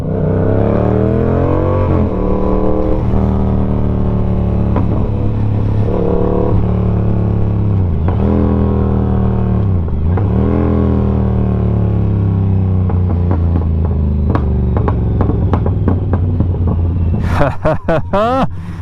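A loud 2022 Yamaha R7 motorcycle engine runs with a steady throbbing note, dipping and surging as it's revved, then a burst of quick, sharp revs near the end.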